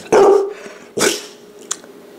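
A dog barks loudly twice close by, a strong bark followed by a second one after a short pause, then a faint trailing yip, with no talking over it.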